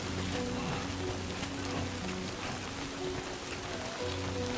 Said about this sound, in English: look at the rain effects in this game.